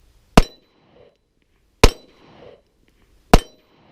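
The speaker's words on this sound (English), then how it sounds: "Let's go ahead and pop off a couple rounds with the Echelon" Three loud, sharp pistol shots from a Springfield Echelon, evenly spaced about one and a half seconds apart, each with a brief echo fading afterward, close up and with no talking.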